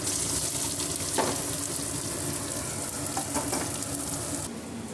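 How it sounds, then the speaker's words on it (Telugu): Green chillies and chopped onion sizzle in hot oil in a pan while cooking egg curry, a dense steady crackling hiss close up with a few brief stirring scrapes, no voices. "ఆయిల్ వేడైందండి. పచ్చిమిర్చి ఆనియన్ వేసుకుందాము."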